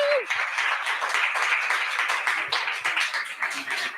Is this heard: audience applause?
yes